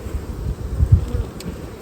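A dense swarm of honeybees buzzes loudly and steadily at a crowded hive, the drone swelling and dipping in close, continuous waves.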